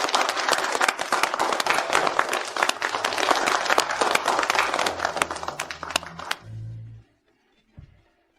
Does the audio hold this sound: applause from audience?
yes